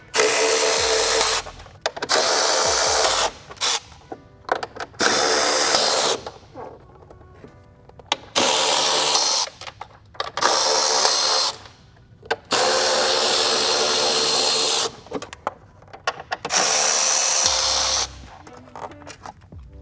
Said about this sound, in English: we'll grab our 10mm and we're gonna remove these 6 screws all around the top of this sound deadening or sound insulation panel here